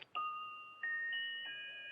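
A musical pocket watch in a film duel scene plays a slow sequence of clear, bell-like chime tones, each note ringing and sustaining before the next, delicate and isolated against a quiet background.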